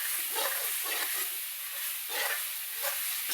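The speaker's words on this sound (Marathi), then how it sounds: "छानपैकी मध्ये तेलात भाजू द्यायचं जरा" Oil sizzles and spatters steadily in a pan as something fries, a dense continuous hiss with soft bursts of crackle, close and fairly loud with no talking.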